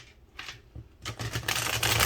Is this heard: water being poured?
no